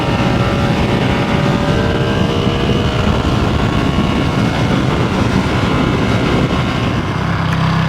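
A Ducati Streetfighter motorcycle on a road ride to a gas station, its engine drone steady and loud under heavy wind rush, with no one talking.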